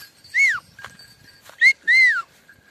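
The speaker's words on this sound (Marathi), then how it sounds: "तर वासराला अशी शिट्टी मारली" A person whistles to call a calf, giving three sharp, swooping whistles close by. The middle two come in quick succession, and faint outdoor sounds fill the pauses.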